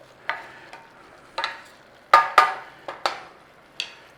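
Vegetables for a 1970s-style meatless stew are stirred in a pan, giving a series of sharp scraping strokes spaced irregularly, close and clear, with quiet gaps between them and no talking.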